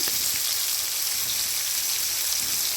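Magur catfish coated in turmeric, salt and dry chilli powder deep-frying in hot oil, giving a steady, dense, hissing sizzle that stays close and even throughout with no pauses.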